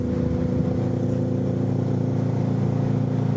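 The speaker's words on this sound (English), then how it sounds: "Have that cross-plane engine. That does sound nice, that bike though." A cross-plane engine motorbike idles with a deep, uneven, throbbing burble, steady and close throughout.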